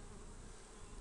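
Honeybees in a drone-laying colony drone steadily at the hive, a dense, continuous buzz filling the short stretch without any voices.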